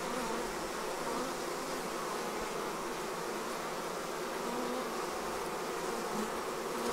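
A swarm of honey bees being hived fills the air with a dense, continuous buzzing hum, steady and close throughout with no voices.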